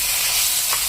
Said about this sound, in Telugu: సిమ్లో పెట్టుకొని ఇలాగ దీన్ని అడుగంటకుండా మనము మిక్స్ చేసుకుంటూ ఫ్రై చేసుకోవాలి